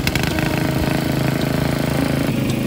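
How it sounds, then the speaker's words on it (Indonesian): Small water suction pump engine running after a restart during pond draining, a steady loud mid-pitched idling drone close by with no pauses. "Setelah itu, kita nyalain kembali mesinnya."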